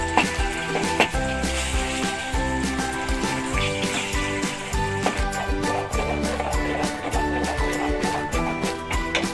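Onion paste fries in oil left over from frying shrimp, giving a close, continuous bubbling sizzle. Irregular stirring clatter sounds against the pan throughout.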